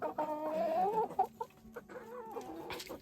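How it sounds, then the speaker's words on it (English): Barred rock cross chickens with fluffy cheeks cluck and murmur close by in a snowy farmyard, a steady run of rising, warbling calls followed by shorter, broken clucks. "I love these barred rock cross fluffy cheek barred rock looking chickens."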